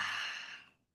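One long, soft exhale of breath during a guided breathing exercise in a stress-relief session, airy and close, fading out gently into silence after under a second.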